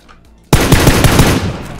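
Automatic rifle fire erupts suddenly in PUBG after a quiet moment, a rapid loud burst of evenly spaced shots that continues to the end.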